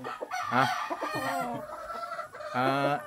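An eight-month-old Sweater gamefowl rooster gives short harmonic clucks and a brief crow-like call, close and clear against a quiet background, in two separated bursts.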